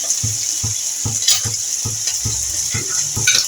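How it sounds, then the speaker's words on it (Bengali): Mutton keema and liver stir-fried in a pan, with a bright steady sizzle and a regular rhythm of about ten spatula scrapes and knocks against the pan, loud and close, with no speech. "এবার এটাকে খুব ভালো করে কষাতে হবে।"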